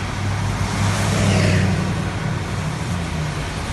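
Road traffic on Eastern Avenue after Tropical Storm Grace, heard as a steady, close drone of car engines and tyre noise, with one vehicle swelling slightly louder midway.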